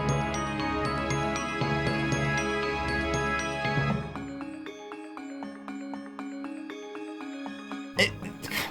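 Music from the Mario & Luigi 3DS remake plays on its own, with a full, dense arrangement that drops to a lighter, sparser tune with a bass line midway, then a brief burst of noise near the end.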